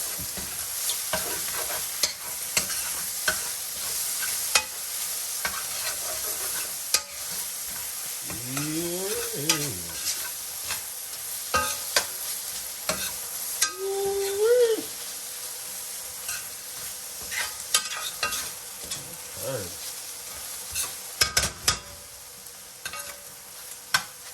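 A spoon stirs oyster mushroom stroganoff seasoned with black pepper in a pan, giving a steady sizzle with scraping strokes and occasional sharp clicks over about twenty-four seconds, with no talking.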